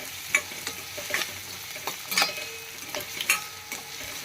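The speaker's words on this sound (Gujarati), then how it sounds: "આપણે આ ડુંગળી ટમેટાને થોડીક વાર સાંતળીને આની ગ્રેવી બનાવવાની છે" Onion and tomato sautéing in a pan for gravy, with repeated close scrapes and stirring clatters from a spoon over a soft sizzle, irregular strokes about every half second, no talking.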